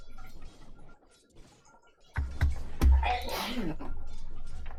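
A woman sneezes after eating, heard in the background during a Dota 2 gaming session as a sudden sharp burst partway through, following a quieter stretch and trailing into noisy breath and rustle.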